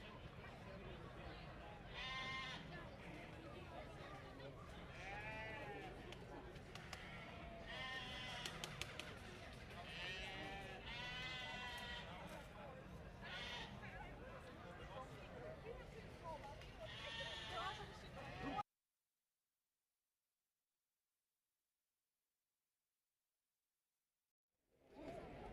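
Aged Dutch Spotted ewes bleat repeatedly at a livestock show, loud and near, over a busy crowd murmur with people talking, before the sound cuts out to silence.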